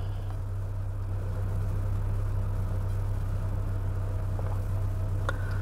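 A Mitsubishi Xpander's engine runs at a steady idle just after starting, a constant low hum throughout with a couple of faint clicks near the end.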